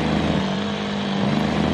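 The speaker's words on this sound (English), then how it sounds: "That truck is so loud" A 1000 hp Cummins diesel truck engine roars in BeamNG.drive as a loud, steady drone that holds an even level throughout, with no talk.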